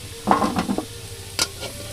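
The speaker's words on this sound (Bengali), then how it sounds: "আলুগুলো ভালো করে ভাজা হয়ে গেছে" Potatoes fry in a pan over a rural clay stove, with a low sizzle under a few quick scraping stirs and a sharp clink near the end.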